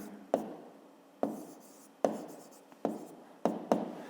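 Pen strokes writing out a fifth-grade math calculation converting square decimeters to square millimeters: five or six crisp, close scratches in a steady rhythm, each fading quickly, with no talking.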